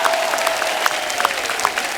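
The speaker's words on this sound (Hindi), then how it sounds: "इनके लिए जोरदार तालियां" Studio audience applause on a comedy talk show, a steady wash of clapping with distinct sharper claps popping out, alone and fairly loud.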